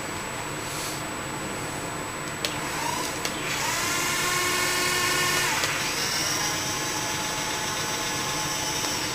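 A small toy tank with real tracks whirs under its electric motor, a high buzzing drone with pitch shifts as it starts and moves, close and steady, with no talking.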